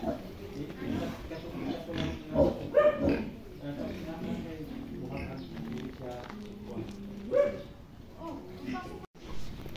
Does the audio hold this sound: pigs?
yes